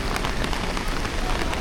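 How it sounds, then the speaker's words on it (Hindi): Rain falling again in a Japanese village gives a dense, even patter on surfaces, loud and close, steady across the short stretch with no voices. "वापस से बारिश आ रही है"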